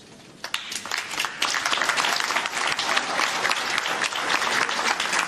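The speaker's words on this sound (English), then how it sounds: "A rapturous applause for the Indian Prime Minister" Applause from a large crowd at the Israeli Knesset for the Indian Prime Minister rises quickly and holds steady, a dense wash of clapping that continues loud to the end.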